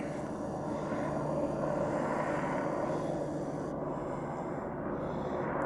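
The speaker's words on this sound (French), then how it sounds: "L'hélicoptère il est là." A helicopter flying near the Sommet du Teillon in open mountain country, a steady distant rotor and engine drone holding evenly throughout with no voices.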